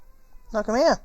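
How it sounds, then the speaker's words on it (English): A pet cat named Shalquar gives a single clear, close meow with a rising-then-falling pitch, preceded by a quiet pause while a person speaks nearby. "That's the cat."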